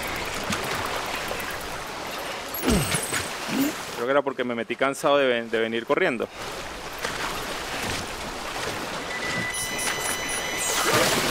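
River water rushing in the video game Death Stranding, a continuous wash of flowing water interrupted midway by a burst of loud, rhythmic in-game sound, with someone talking over much of it.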